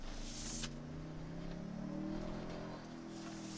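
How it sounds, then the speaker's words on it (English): A 2022 Toyota Tundra Capstone with a hybrid twin-turbo V6 hums steadily from inside the cabin, a low engine drone that rises slightly in pitch as the truck accelerates. "The V6 twin turbo sounds good though."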